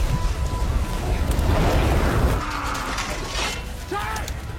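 Mechanical clanking and ratcheting as a car engine is repaired in a hurry amid a fire, a steady burst of metallic rattles and clicks over rushing background noise.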